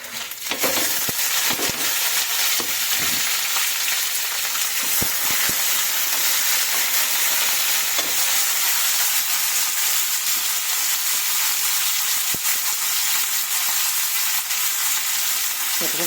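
Dry red chillies, curry leaves and cumin seeds fry in hot oil with a steady, loud, continuous sizzle, broken by occasional sharp crackles and a few stirring clicks, with no talking over it.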